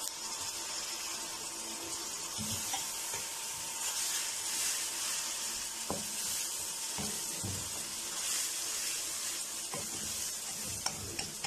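Ginger garlic paste sizzles in hot oil with golden-fried onions for kaleji masala, a steady close crackle with a few soft spoon scrapes and taps through it, and no talking.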